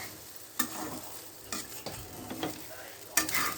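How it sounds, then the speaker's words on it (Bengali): Rice and lentils dry-fry in a pan, a soft, low-level sizzle with occasional scraping stirs of a spoon at irregular intervals, heard alone without talk. "চাল আর ডালটা ভালো মতো ভাজা হয়ে গেছে।"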